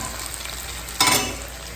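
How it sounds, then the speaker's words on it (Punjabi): Tadka tempering for dal sizzles in a pan as a low steady hiss, then jumps into a sudden louder burst of crackling sizzle for a moment before settling back. "ਚਲੋ ਜੀ ਤੜਕਾ ਲੱਗ ਗਿਆ ਥੱਲੇ"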